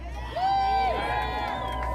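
Rally crowd at a Nakba Day march for Palestine cheering and whooping in a sustained roar, with a single loud voice rising above it near the start and ongoing crowd noise throughout.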